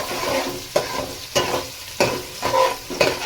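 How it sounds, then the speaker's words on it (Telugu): Onions frying in hot oil for biryani, stirred in a steady rhythm of about five loud scraping strokes over a constant close sizzle. "మంచిగా బ్రౌన్ కలర్ వచ్చేంత వరకు మనం ఇది ఫ్రై చేద్దాము"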